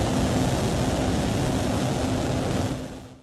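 SpaceX Starship rocket engines during Flight 12, heard as a steady, dense, broadband roar that holds for about three seconds at constant strength before fading away, with no voices.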